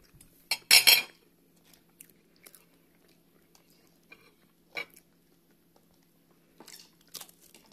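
Crispy fried bacon is bitten and crunched with cutlery, a sharp crackle followed by a few soft chews and light clinks of utensils spread across a quiet stretch.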